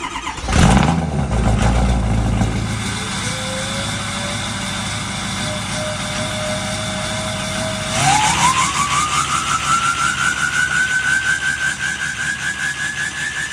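A rowdy, untuned 6.0 diesel truck engine cranks over and then runs with a rough, steady idle. A whine climbs in pitch partway through as the engine revs up and holds there.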